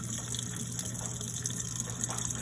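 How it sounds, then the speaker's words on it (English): Filtered water flowing steadily from the pull-down spout of an American Standard Saybrook single-handle kitchen faucet, a constant close hiss and patter into the sink with no pauses. "let's say you want some filtered water, you just press that button, and there's your filtered water right there"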